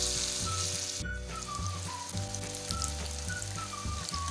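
Popcorn chicken pieces fry in hot oil with a steady close crackling sizzle, faint bubbling and a low background hum underneath, no talking.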